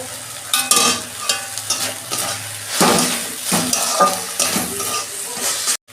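Green chillies and tomatoes dropped into a hot pan of chicken curry hiss and sizzle steadily, with repeated scraping stirs of a spoon against the pan, close and loud, with no talking.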